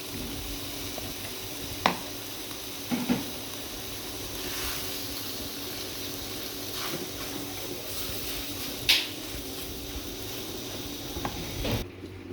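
Mashed potatoes being stirred into mixed vegetables in a kadhai give a steady low sizzle, broken by a few soft scrapes and clicks of a spoon against the pan.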